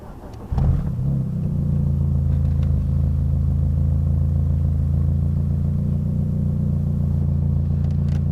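A 1999 Mitsubishi Eclipse GS Spyder engine cranks briefly and catches, then settles into a steady, close, loud idle rumble that holds for several seconds with no talking.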